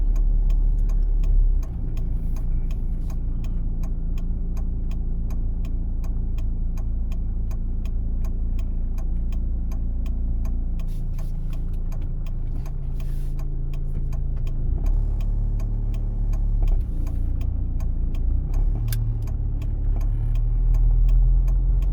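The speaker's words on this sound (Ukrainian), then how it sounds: "І тут ми вмикаємо правий покажчик повороту" Inside a car on a driving-test route in Kryvyi Rih, the right turn indicator ticks in a steady, even rhythm over the low, constant rumble of the engine and road noise, with no talk.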